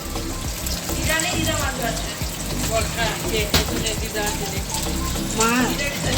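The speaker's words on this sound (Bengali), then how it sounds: "দিদা এখন এখানে মাছ ভাজছে" Fish fries in a pan in a home kitchen, a continuous crackling sizzle throughout with a sharp tap of utensils near the middle, while someone talks nearby.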